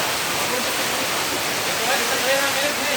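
Heavy rain with strong wind makes a dense, loud, unbroken hiss and roar that fills the whole stretch, with faint voices buried underneath.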